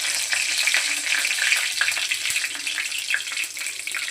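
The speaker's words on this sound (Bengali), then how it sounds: "তেল গরম হয়ে গেছে। দিয়ে দেবো তেজপাতা," Bay leaves dropped into hot oil in a kadai while chicken biryani is being cooked, giving a continuous crackling sizzle with scattered sharp pops, close and fairly loud, with no talking.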